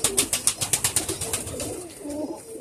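Pigeons in a loft make a rapid run of regular pulsing sounds near the start that fade and soften into a low cooing murmur, with no speech.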